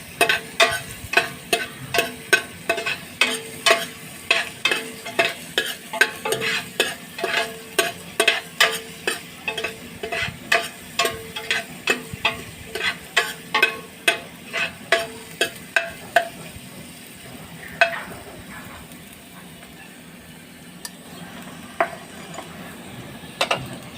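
Garlic frying in a pan for Bicolano-style ginisang kalabasa, stirred with a utensil: a run of regular, close scraping strokes over a soft sizzle, thinning out to a quieter sizzle in the last few seconds.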